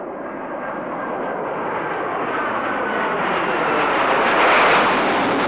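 A Panavia Tornado swing-wing jet flies past at the 1997 RAF Mildenhall Air Fete, a loud, continuous jet roar that builds steadily and peaks near the end.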